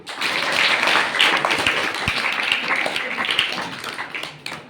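An audience applauds at a high school event, dense overlapping claps sustained evenly throughout at moderate loudness.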